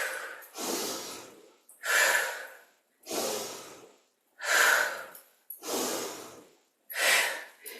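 Slow, deliberate yoga breathing, in through the nose and out, heard up close as six long, even breaths, each swelling and fading in a steady rhythm with short pauses between them.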